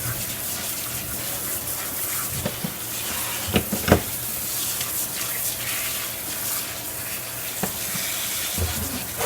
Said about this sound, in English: turn it off and drain it in colander